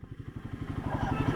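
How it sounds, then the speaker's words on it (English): A Royal Enfield Guerrilla 450 motorcycle engine runs close up with a steady, rhythmic mid-pitched thumping that rises slightly in loudness toward the end, with no talking. "Royal Enfield has done magic here with this engine."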